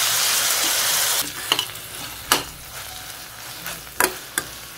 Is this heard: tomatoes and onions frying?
yes